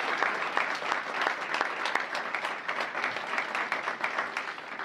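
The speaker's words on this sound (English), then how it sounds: "How about a big round of applause for all of our veterans?" A large audience applauds steadily, dense clapping sustained evenly throughout with no talking.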